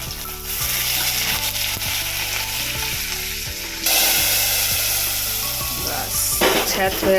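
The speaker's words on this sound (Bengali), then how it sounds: "ছ্যাঁত হয়ে গেল" Khichuri cooking in a hot pan gives a steady frying sizzle that jumps to a louder, brighter burst of spitting partway through, with soft background music underneath.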